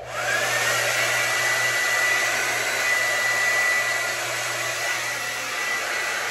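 A hair dryer on its cool setting blows close and loud as a continuous steady whoosh with a faint whine. It runs without pause for the whole stretch.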